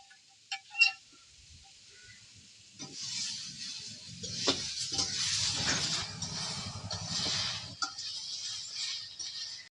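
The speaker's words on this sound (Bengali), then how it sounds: "এবারেতে কাঁচা লঙ্কা আর আদা বাটা দিয়ে দিচ্ছি" Green chili and ginger paste sizzle in a pan of hot oil for a fish curry with mankochu, starting with a few clinks, then a steady, fairly loud frying hiss with some stirring.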